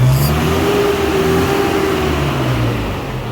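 A 2016 Nissan Navara with an overheating fault revs hard, its engine rising to a loud sustained roar and then easing off toward the end, close up and alone without speech.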